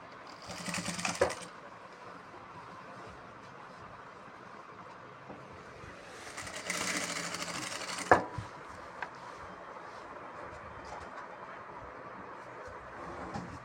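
A sewing machine stitches a cut salwar suit pattern in two short whirring bursts separated by quieter stretches, with small clicks and handling noises between runs.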